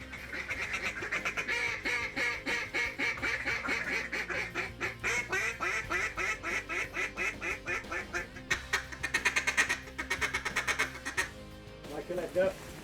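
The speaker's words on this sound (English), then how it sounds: "Liking that duck?" Mallard ducks quack in rapid, repeated bursts throughout, loud and close during a midseason duck hunt, with a voice speaking over the calls.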